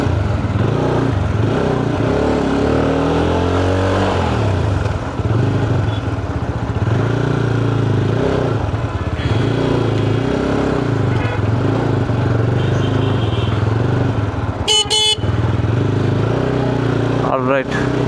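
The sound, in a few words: GPX Demon 250 motorcycle being ridden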